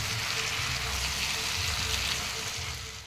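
Chicken pieces fry in a spiced curry masala alongside fried potato and papaya, giving a steady, soft, close sizzle with a faint stirring rustle that fades slightly at the end.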